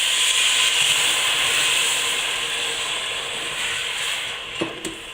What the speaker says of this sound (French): je vais déglacer avec mon vin blanc